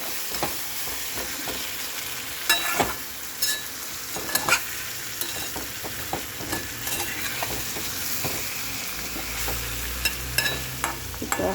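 Potatoes frying in a pan with ginger and spice paste, a steady sizzle and hiss broken by repeated scraping stir strokes of a spoon, close and alone with no talking.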